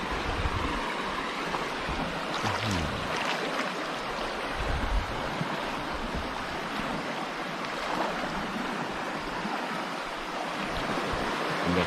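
River water flowing steadily past a riverside campsite on the Lam Phachi at Suan Phueng, Ratchaburi, a continuous broadband rush in the morning with some wind, no talk.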